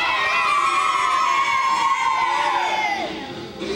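Children at an outdoor kids' activity day cheer and shout together in a loud, sustained crowd roar that dips slightly near the end.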